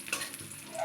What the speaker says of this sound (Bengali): কিশমিশটাও আমার একটু ভাজা হয়ে গেল।